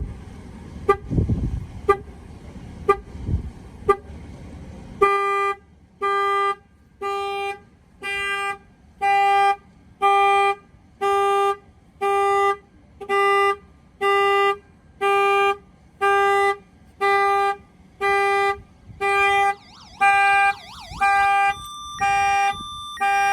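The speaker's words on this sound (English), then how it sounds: "and the alarm's going to go off now" A Chevy Camaro's upgraded security alarm blares in a steady pulsing pattern of loud, evenly spaced tonal bursts, preceded by a few dull knocks against the car, continuing alone for about twenty seconds.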